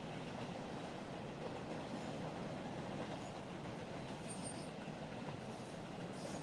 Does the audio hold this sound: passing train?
yes